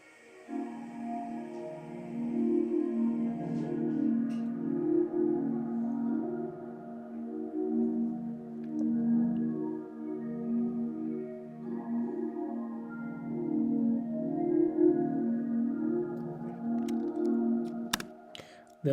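FL Studio beat of a warm synth pad with a pulsing arpeggio and a light bell-like tone, soft and steady with gently swelling loudness, ending in a few sharp clicks.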